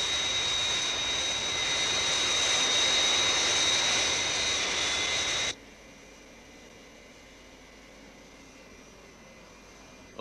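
A loud, steady roar from the Fireflash jet airliner taking off, a broad whooshing engine noise that drops abruptly to a quieter hum partway through.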